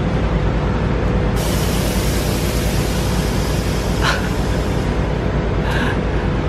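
Air Lift Performance 3P air suspension on a 2012 Mercedes-Benz C300 4MATIC releases air, a loud continuous hiss that runs throughout with a couple of brief sharper bursts.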